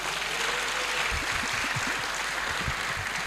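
An audience at a public forum claps for a speaker, a continuous wash of many hands heard from a distance, moderately loud and unbroken, with low thumps beneath it.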